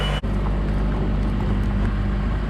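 A tractor engine running during tree trimming, a steady low rumbling drone held at a constant loud level, close by, with a brief dropout near the start.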